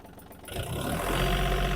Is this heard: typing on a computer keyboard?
no